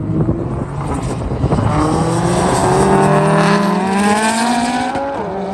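A fully built Evo 8 with a 6266 forward-facing turbo on 38 psi of boost drag racing a 750 WHP 5.0 Mustang, with loud engines roaring and pitching upward steadily through the gears, close by and continuous.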